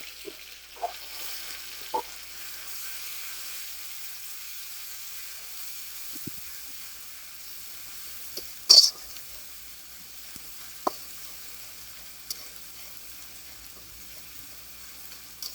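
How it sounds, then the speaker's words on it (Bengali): Garlic and spices fry lightly in oil in a pan, giving a soft, steady, low sizzle with occasional sharp clicks and knocks from stirring, and one louder clatter partway through. "তো এটাকে একটু হালকা ভেজে নেবো, যাতে যে মশলার যে কাঁচা গন্ধটা থাকে এটা যাতে না থাকে"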